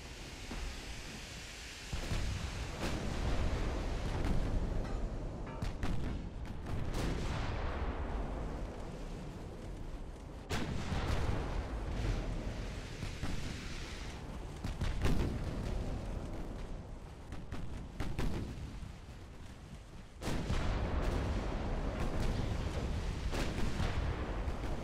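10-inch naval guns firing in the warship game Ultimate Admiral Dreadnoughts: heavy booming salvos at irregular intervals, each followed by a rumbling roll over a constant sea-like wash.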